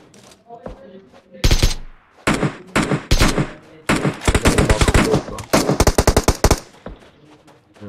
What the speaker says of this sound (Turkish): Nereden sıkıyorlar bana?